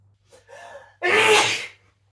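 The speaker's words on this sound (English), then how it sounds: "The sneezing was starting to intensify again." A single human sneeze: a short, breathy inhaling build-up followed by a loud, explosive burst lasting about half a second, close and alone against quiet.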